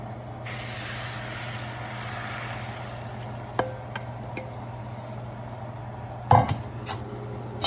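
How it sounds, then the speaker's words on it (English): Eggs cooking in a pan for a quesadilla give off a steady hissing sizzle, with a few light utensil clinks and one sharper clatter near the end, close by and without talk. "Now we cook our eggs."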